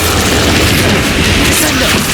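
A fire spell cast in the Hogwarts Legacy video game, a loud, dense whooshing blast with a booming low roar sustained over about two seconds.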